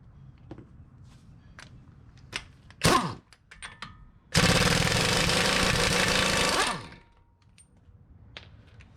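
An impact gun with a 30mm 12-point socket loosens the axle nut on a 2015 Toyota Sienna during a front strut job: a short burst, then a loud sustained two-second rattling hammer, with scattered tool clicks around it.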